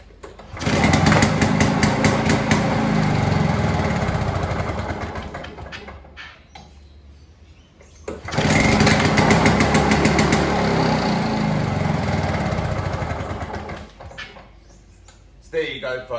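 A Victa two-stroke lawnmower, its pull start just re-tensioned, fires up and runs loud and close for about six seconds, cuts out, then restarts and runs again for another six seconds before dying away, with a voice talking over parts of it.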